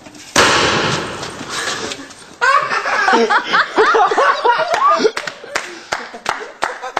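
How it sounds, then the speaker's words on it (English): A mortar fired during a test gives a sudden sharp burst that rings out for a couple of seconds, followed by people laughing and chattering, with a few scattered sharp clicks or pops toward the end. "ladies and gentlemen, that was the mortar."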